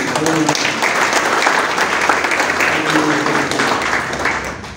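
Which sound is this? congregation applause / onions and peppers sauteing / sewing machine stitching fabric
congregation applause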